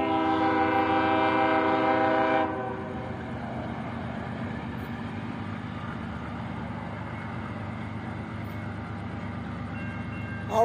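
A train horn blares steadily for a couple of seconds, then cuts off, leaving the continuous rumble of the train rolling past in Auburndale or Lakeland.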